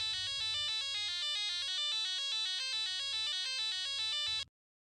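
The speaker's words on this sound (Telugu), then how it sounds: "ఫోన్ రింగ్ అవుతుంది, ఎవరో చూడరా." A phone ringtone plays alone, a bright electronic melody of stepped tones repeating in a steady loop for about four and a half seconds before cutting off abruptly.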